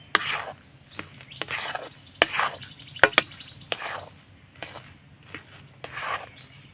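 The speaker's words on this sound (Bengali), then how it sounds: "উনুনের আঁচটা হালকা রেখে অনবরত নাড়াচাড়া করে ডো বানিয়ে নেব" Palm jalebi dough is stirred continuously in a pan over low heat, giving repeated close scraping strokes at an uneven rhythm, with a few sharp clacks of the utensil against the pan.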